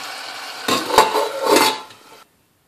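Metal spoon scraping and clinking against a pot while tinda curry is served out, a few close, bright clanks and scrapes over about two seconds before silence.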